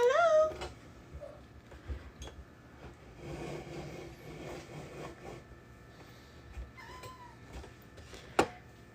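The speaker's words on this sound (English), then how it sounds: "Meow meow!" A cat meows a few times, a short sharp call opening the sequence and later softer calls, with quiet handling noises and a faint background hum in between.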